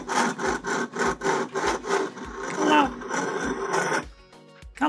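Asus ROG Gladius gaming mouse dragged back and forth across a bare hard desk surface, a loud rhythmic scraping in about eight even strokes, then a brief pause and another scrape.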